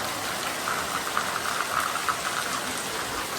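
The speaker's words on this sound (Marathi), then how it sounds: "जस्ट आलो आणि पावसाळी सुरुवात झाली" Steady rain just beginning to fall outdoors near a Hanuman temple, a constant close hiss of drops with faint patter peaks, no talking.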